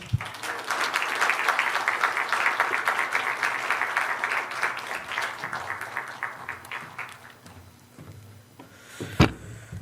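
A church congregation gives sustained applause for four youth presenters after a Sunday sermon-study presentation, a steady wash of many hands clapping at close range that tapers near the end, with a few louder claps and brief voices at the close.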